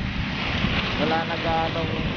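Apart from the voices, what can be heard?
strong sea waves and wind at Manila Bay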